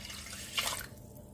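Water is poured from a glass onto rice and lentils for jaggery pongal, a brief, faint splash and trickle in the middle of a quiet kitchen.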